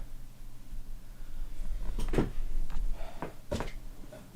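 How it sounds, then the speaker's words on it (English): A squeaky bathroom door swings open or shut in two or three short creaks and bumps, close by in a quiet room. "you'll be hearing my squeaky bathroom door"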